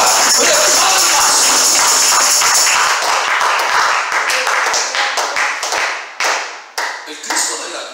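Church congregation clapping as an offering of praise to Jesus, a dense, loud wash of hand claps that thins out toward the end into scattered individual claps.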